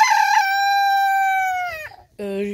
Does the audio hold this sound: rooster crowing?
yes